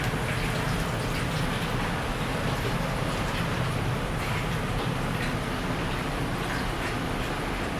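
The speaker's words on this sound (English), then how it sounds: "Now, then we're ready to stir fry the fish." Continuous loud, hissing sizzle of fish stir-frying in a hot pan, steady throughout with no pauses.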